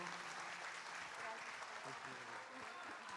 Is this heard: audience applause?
yes